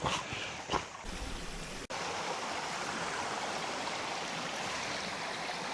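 Water runs steadily over a flooded track near a waterfall, a dense continuous rushing hiss after a brief disturbance at the start.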